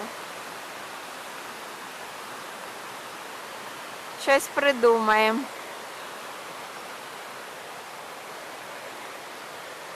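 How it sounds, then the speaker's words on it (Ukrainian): Steady broadband rushing of water fills the whole clip, from a small waterfall nearby in Baden-Baden, with a brief spoken phrase in the middle. "дуже шумить вода"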